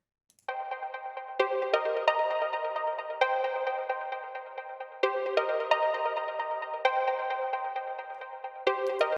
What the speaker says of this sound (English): This is like some kind of arpeggiator thing.